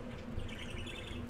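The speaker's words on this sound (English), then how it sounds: "Yeah, my bird's going off," A pet bird chirps indoors in a brief, faint burst of high tweets over a low steady background hum, with no voices.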